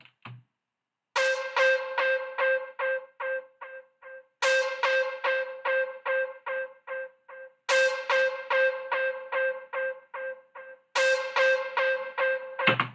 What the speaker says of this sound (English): I have a little bit of distortion on there. I have it echoing from one side to the next.